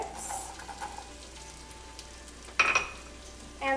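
Carrots tossed into onions sautéing in oil on medium heat give a faint, sparse frying crackle, with a brief louder sizzle burst and stirring scrape near the end.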